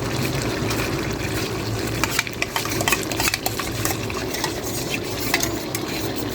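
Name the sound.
stirring yogurt spice mix into chicken curry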